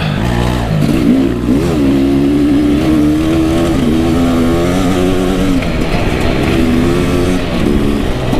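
A Kawasaki KX250 four-stroke dirt bike revs hard and rides, its loud, close engine rising and holding in pitch with throttle blips, the buzzing drone continuous throughout.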